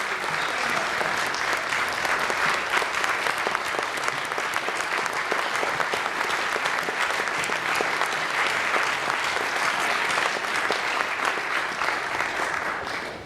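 Sustained loud applause from a large crowd, steady and even for the whole stretch, fading slightly right at the end.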